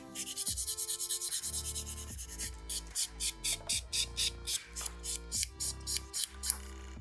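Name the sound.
filing an acrylic nail with a 240 grit file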